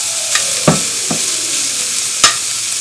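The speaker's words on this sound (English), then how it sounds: "I'm going to add the bacon that is chopped up." Chopped bacon sizzles in a pan over medium heat with a steady frying hiss, broken by a few sharp scraping stirs from a utensil. No one speaks.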